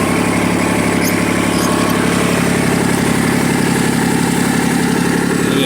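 Farm vehicle engine driving down to an orchard, a loud, close, steady mid-pitched engine drone with a rapid mechanical pulse throughout.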